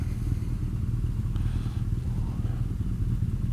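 A 2017 BMW R nineT Scrambler 1170 cc motorcycle cruises along, its engine a steady, low rumbling drone with wind noise and no talking.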